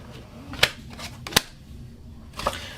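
Tarot cards being shuffled, with a few crisp slaps and flicks as cards slip out of the deck, sparse and close against a quiet room.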